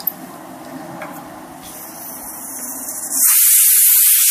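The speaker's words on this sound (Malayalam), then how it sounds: "ഒരു വിസിൽ വന്നു" A pressure cooker cooking sambar sits quietly for a few seconds, then lets out a sudden loud, sustained whistling hiss of escaping steam that continues to the end.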